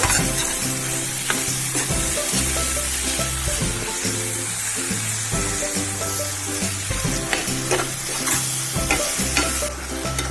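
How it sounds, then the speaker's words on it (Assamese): Duck meat stirred and fried in a pan, a steady close crackling sizzle with repeated scraping stir strokes throughout. "এতিয়া এইখিনি ভালকৈ লৰাই থাকিব লাগিব,"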